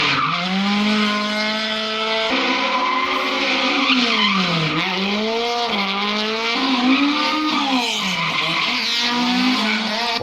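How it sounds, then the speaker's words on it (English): Red Toyota Trueno sliding through a drift, its engine wailing up and down in pitch while the tires scream and skid steadily, loud and close from start to finish. "Wow, that red Trueno sounds so awesome."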